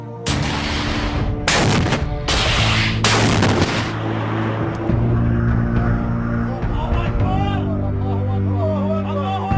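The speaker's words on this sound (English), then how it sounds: "Many of the fighters have filmed themselves firing the missiles" US-made TOW anti-tank missiles are launched by fighters: several loud, close blasts in quick succession, then a lower rumbling tail with voices in the background.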